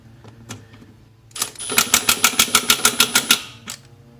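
A Milwaukee cordless impact wrench whirs up, then a rapid series of about a dozen loud, evenly spaced mechanical hammering impacts tightening lug bolts on a John Deere 757 zero-turn mower, close by, ending abruptly.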